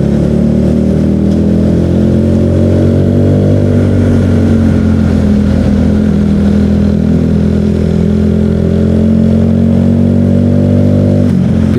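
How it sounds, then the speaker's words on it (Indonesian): A convoy of sand-mining trucks crawls through early-morning traffic on the road via Pandaan toward Lumajang, a loud, steady low engine drone holding close throughout with slight shifts in pitch and no speech. "Wah, ada rombongan truk, sepertinya ini truk penambangan pasir."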